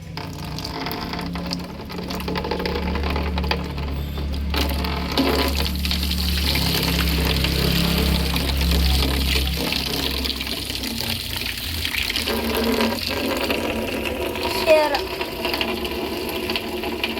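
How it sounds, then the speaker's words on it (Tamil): Water pours steadily while a guppy fish tank is being cleaned, a continuous close splashing and trickling with faint mechanical rattles and some low hum throughout. "கொஞ்சம் தண்ணி சவுண்டு டிஸ்டர்பாக இருக்கும்"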